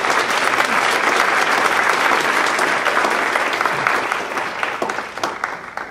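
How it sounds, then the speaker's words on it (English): A large audience at an evening excellence celebration gives itself a sustained round of applause, a dense, loud wash of clapping that holds steady and begins to thin out near the end. "I'd like for you all to give yourselves a round of applause because you deserve it"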